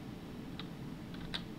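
Typing on a computer keyboard: two or three faint, quick key clicks over a low steady hum, sparse and close, with no voice.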